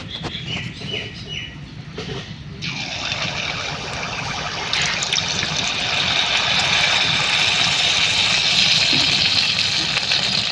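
Malpua batter frying in hot white oil in a wok, a steady, loud, close sizzle and crackle that swells after a sudden burst when the batter hits the oil, with no talking.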